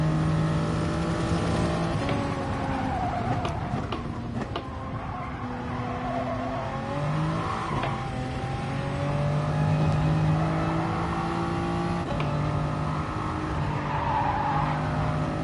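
Race car engine droning steadily through a racing video game, with shifting pitch as it accelerates and tires squealing and skidding through corners, loud and continuous throughout.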